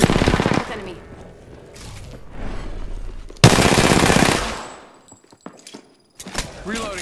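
Bursts of automatic weapon fire in the battle-royale shooter Apex Legends, loud rapid shots in several clusters separated by short gaps, with a voice talking between them.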